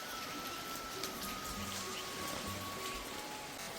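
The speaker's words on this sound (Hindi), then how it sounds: "इतनी सारी बारिश लगी हुई है" Steady rain falling in a mountain village, a dense even hiss of drops pattering on surfaces, with a few faint tonal tones in the background and no speech.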